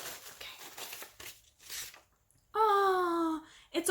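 Wrapping paper crinkles and rustles in bursts as a package of self-striping yarn is unwrapped up close, then a brief high vocal sound is followed by one more rustle.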